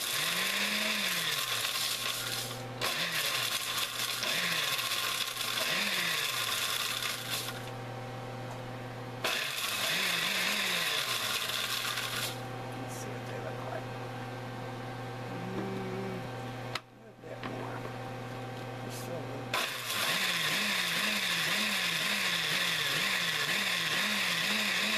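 Electric grinder mincing three tablespoons of dried onion, running in loud repeated bursts with a steady motor whine and rising pitch sweeps, separated by brief pauses.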